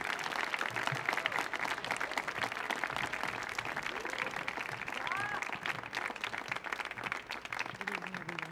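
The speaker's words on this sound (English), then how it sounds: "please give them a warm round of applause for their opening performance" A live audience at the Millennium Stage gives a warm round of applause for an opening storytelling performance, a dense, steady wash of clapping that holds loud and even for the whole stretch, with a few faint voices and whistles mixed in.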